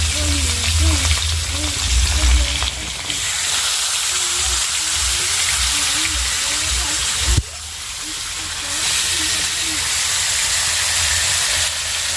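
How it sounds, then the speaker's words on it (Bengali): Fish pieces fry in hot oil, a loud steady sizzle and hiss throughout, with a brief clatter partway through and a person's voice faintly underneath. "মাছ ভাজতে গেলে একটা জিনিসই ভয় লাগে এই তেলটা যে ছিটকে ছিটকে পড়ে শরীরে"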